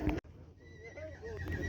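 A horse whinnies briefly at a livestock market in Kyzylorda, a close, wavering high neigh over low background noise.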